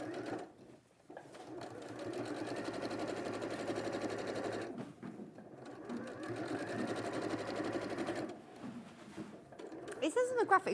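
A domestic sewing machine runs steady top stitching along a quilt seam, a close, continuous rapid whirring hum with two short pauses, while someone talks over it.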